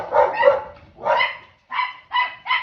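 Several dogs bark in loud, close bursts with short gaps between them, an irregular run of sharp yips and woofs with no talking.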